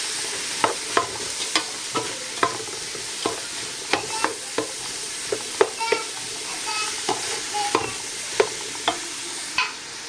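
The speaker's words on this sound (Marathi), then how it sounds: "आतां आमी आनियन ॲड करूया. मातसो मिक्स करूया तो." Onion frying in hot oil in a pot for a Goan beef and pork stew, with a spoon clacking against the pot in a steady rhythm over constant close sizzling.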